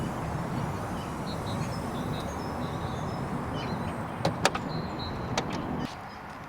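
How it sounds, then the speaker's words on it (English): The power tailgate of a 2016 Audi A4 Avant opens and closes automatically: a steady electric motor hum runs throughout, a few sharp latch clicks come near the end, and the hum then drops away. "The boot opens and closes automatically"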